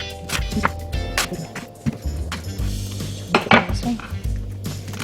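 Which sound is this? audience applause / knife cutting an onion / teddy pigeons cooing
knife cutting an onion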